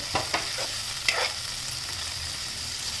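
Lentils frying in a pan are stirred, giving a steady sizzle under a few scraping stir strokes near the start and around the one-second mark.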